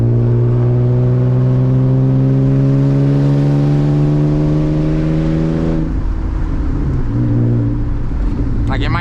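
A manual BMW E36 328i accelerating hard with a loud exhaust, its engine note climbing steadily through a gear before a shift, then pulling again; close, loud and continuous.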